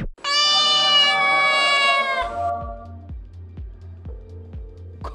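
A pet cat gives one long, loud, sustained meow up close, followed by a quieter stretch of soft, rhythmic low thumps with no voices.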